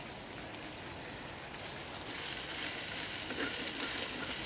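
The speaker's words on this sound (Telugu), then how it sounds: "ఇప్పుడు ఒక గుప్పెడు పుదీనా వేసుకుని ముప్పై సెకండ్లు మాత్రమే బాగా కలుపుకుందాం" A handful of fresh mint stirred into tomato masala frying in a pan for chicken fry piece biryani: a soft, steady sizzle that swells louder after a couple of seconds, with light stirring scrapes.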